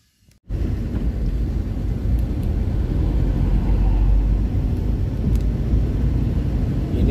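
A 2007 Daihatsu Zebra Espass on a test drive, heard from inside as a steady low road-and-engine rumble that starts abruptly after a brief silence and holds throughout without talk.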